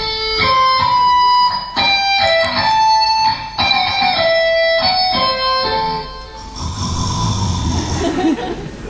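Electric guitar plays a plain melody without tremolo bar, a run of clearly picked single notes followed by a noisier, fuzzier stretch at the end, loud and up close with no speech.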